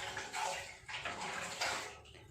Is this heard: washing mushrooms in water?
yes